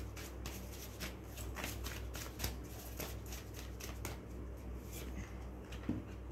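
Tarot cards riffled and flicked in a steady run of soft, close papery shuffles and snaps, with a few sharper card slaps standing out against a low background hum.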